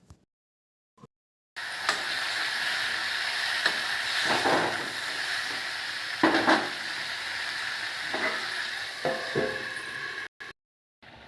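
Tomatoes frying in a hot tempering pan at home give a steady, close sizzle and hiss, with a few soft scraping and stirring knocks from a utensil against the pan.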